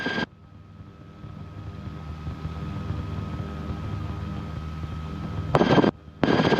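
A Rotorway helicopter flies with its rotor turning, giving a steady low droning hum throughout. Short loud bursts near the start and end sound like wind buffeting or a radio transmission.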